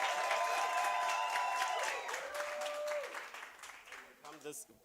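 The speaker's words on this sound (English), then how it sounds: "Let's please welcome her with a huge round of applause." Audience applause welcomes a speaker onto the stage at a market opportunities workshop and expo, heard under sustained music tones before the clapping thins and fades near the end.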